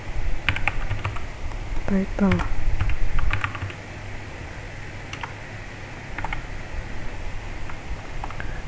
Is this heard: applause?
no